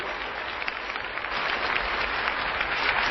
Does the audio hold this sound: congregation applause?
yes